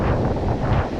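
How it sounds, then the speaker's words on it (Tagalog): Strong wind blows across open water where people are fishing, a loud steady buffeting roar on the microphone with the wash of waves beneath, with no talking. "Lumakas na naman yung hangin, lumakas na naman yung alon."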